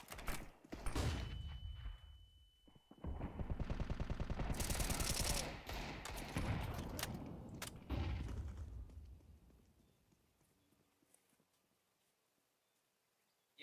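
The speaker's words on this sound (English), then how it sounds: "Throwing fire. Throwing flashbang." Gunfire and a flashbang grenade in a first-person shooter video game, with bursts of loud, dense shots and blasts filling several seconds before fading into quiet.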